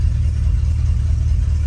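A car engine with an aftermarket cam and an H-pipe exhaust runs at a steady idle, a low, dense rumble that stays even and close throughout.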